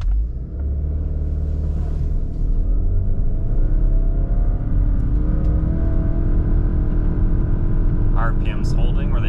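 A 2023 Subaru Ascent Touring accelerates hard from a standstill to 60 mph on a wet private road, its engine note climbing loud and steady with rising whine, while a voice talks over it and brief clatter comes near the end.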